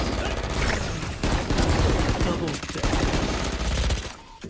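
Gunfire in a Valorant pistol round of an esports match, a busy crackle of rapid shots close by, easing off at the end, with commentary talk over it.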